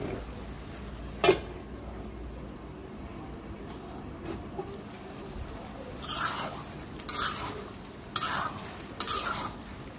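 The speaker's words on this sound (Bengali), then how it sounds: "এখন মাংসগুলো এটার মধ্যে দিব, দিয়ে ভালো করে কষাবো" Beef stirred and fried in a pot, a low steady sizzle broken by a sharp knock early on and several scraping stirs in the second half, close by with no talk.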